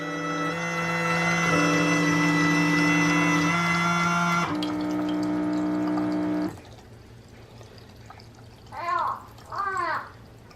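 A Baby Brezza formula machine runs with a steady tonal mechanical hum and whir while dispensing water, shifting pitch partway through, then stops, followed by a couple of short beeps.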